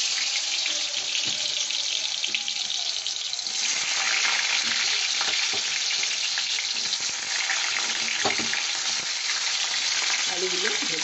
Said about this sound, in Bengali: আলুগুলো দিয়ে ভেজে নিচ্ছি